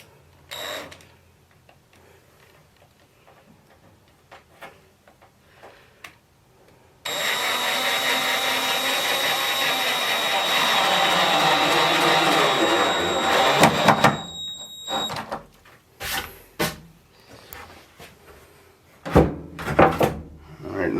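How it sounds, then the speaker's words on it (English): A power drill drives screws down through the 4x4 legs of a wooden washer stand, one long loud whirring run of several seconds, followed by scattered knocks and handling thumps. "when I screw it down with this, then I could remove this"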